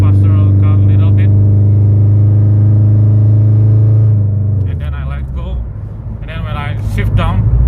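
A 2013 automatic Toyota FT86 running a Motec M150 idles with a loud, steady engine drone, then a sharp throttle blip and revving on the downshift, while someone speaks close by.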